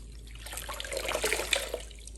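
Tap water splashing and running over a trumpet lead pipe during cleaning in a sink, a short rising and falling gush of close, bubbling water with no talk.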